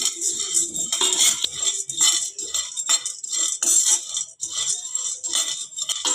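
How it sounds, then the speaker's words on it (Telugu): Puffed chana (putnalu) are dry-roasted in a pan for Sankranti laddus, the stirring utensil scraping and clinking busily against the metal in an uneven, close rhythm without any talking. "పుట్నాలు వేయించుకోవాలండి."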